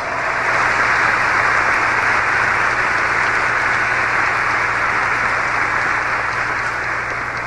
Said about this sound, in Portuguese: Vamos aplaudir Maria e São José bem forte